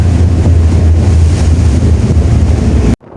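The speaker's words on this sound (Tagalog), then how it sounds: "Talagang malakas yung Alon." Strong sea waves and gusting wind buffet a Lite Ferry 3 passenger ferry crossing from Cagayan to Cebu, a loud, continuous roar of wind noise and churning water that cuts off abruptly at the end.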